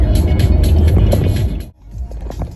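A car driving on the road to Kyiv, heard from inside as a steady loud rumble of engine and tyre noise with road hiss, briefly dipping before picking up again.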